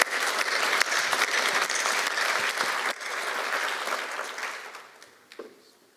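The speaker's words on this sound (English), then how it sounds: "if we give them a round of applause" An audience at a health partner event applauds in a thick burst of clapping that holds for several seconds, then tapers off with a few scattered final claps.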